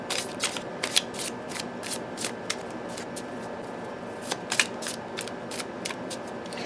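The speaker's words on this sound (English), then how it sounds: "with this small size, it's really easy to side shuffle." Quick, crisp side shuffling of small tarot cards with irregular flicking snaps, some in rapid bursts, close and fairly soft with no talking.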